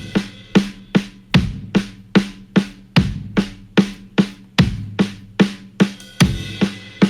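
Marching band drums in an electronic music track, struck in a steady, regular rhythm of sharp hits with ringing tails, loud and close with no voices over them.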